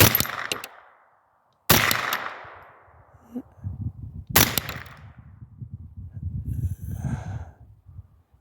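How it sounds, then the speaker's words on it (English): Rifle fire at a long-range steel target, two sharp loud shots a few seconds apart after an opening crack, each with a trailing echo, amid outdoor wind and rustling. "Let's take some hits on this target."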